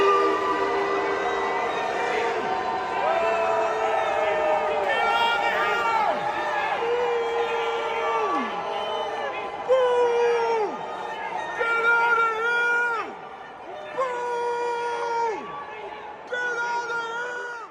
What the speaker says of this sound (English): And people, residents of D.C., mercilessly booed them.